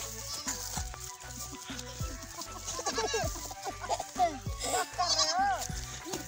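Goats bleat repeatedly in a Pakistani village farmyard beside a wheat field as children play with them, their wavering cries rising over clucking fowl and other background sounds.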